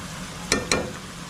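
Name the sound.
food frying in oil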